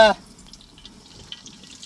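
Cold-pressed gingelly (sesame) oil is poured into an uruli cooking pot for a fish curry. A brief louder splash at the start settles into a soft, steady trickle.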